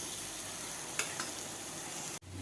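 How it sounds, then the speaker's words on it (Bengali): Pumpkin and vegetables sizzle steadily as they are stir-fried in a pan, a constant close hiss with a few scraping stirs before a brief cut in the sound. "এবার একটু ভালো করে নেড়েচেড়ে ভেজে নিতে হবে, একটু বারবার করে নেড়েচেড়ে নিতে হবে।"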